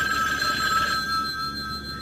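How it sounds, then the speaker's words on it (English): An old-style telephone bell rings as a radio drama sound effect, one loud, close, continuous electric trill lasting about a second before fading into a softer ringing tail. "That's when the telephone started ringing."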